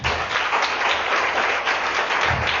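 Church congregation at an intensive prayer service applauding and cheering for Jesus, a dense, steady wash of clapping and crowd acclaim that holds at full strength for the whole stretch, without a break.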